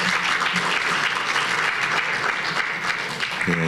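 A large congregation applauds at an inauguration service for a cyber university's board chair and president, loud, dense and continuous clapping that fills the room from start to finish with no talk.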